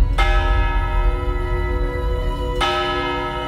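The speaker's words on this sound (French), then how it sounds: "Nous continuons de monter, encore un peu, à la découverte des cloches de Saint-Étienne." Bells of Saint-Étienne cathedral in Metz ring from the tower, two loud strikes a few seconds apart, each leaving a long humming resonance.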